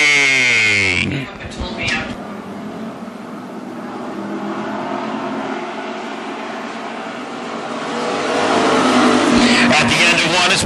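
Street stock race cars roar at Ogilvie Raceway during a WISSOTA heat race, engines building from a rumble into a loud pack sweeping past, with an announcer talking over the noise.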